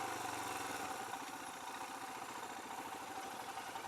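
Royal Enfield Himalayan motorcycle engine running with a light rev, a low, even thrum that stays fairly faint and steady.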